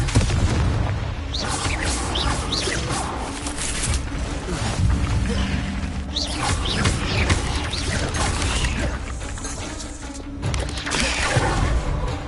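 Confringo explosion spell cast in a Harry Potter game, loud booming blasts and crashing thuds over a dense, busy game soundscape, with a voice speaking briefly.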